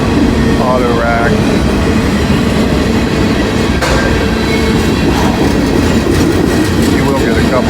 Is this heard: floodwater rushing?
no